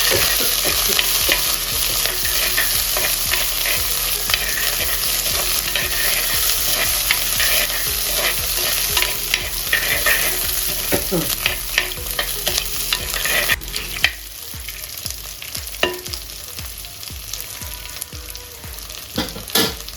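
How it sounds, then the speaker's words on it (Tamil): Shallots and curry leaves frying in a pan, a loud continuous sizzle with rapid, rhythmic stirring scrapes throughout that turn into sparser, distinct strokes near the end, with no talking. "அதே மாதிரி சின்ன வெங்காயம் இதோடு சேர்த்து கருவேப்பிலை நல்லா ஒரு கொத்து போட்டுட்டு நல்லா மிக்ஸ் பண்ணி விடுவோம்"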